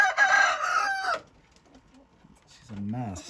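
A rooster from a meat chicken crossbreeding flock crows loudly and close by, followed by a short quiet stretch and then a hen's throaty clucking.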